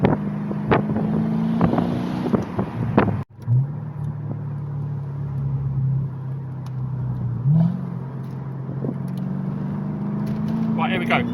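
A Mercedes SLK55 AMG R172 V8 with bypassed exhaust valves revs through its downpipe, a deep rumbling engine note with sharp blips and a brief cut, wind noise over the microphone and a voice talking.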